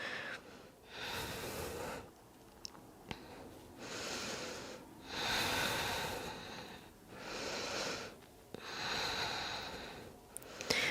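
Slow, deep breaths during a yoga twist in a hip mobility flow, heard close up as several long audible inhales and exhales in a steady rhythm separated by short pauses.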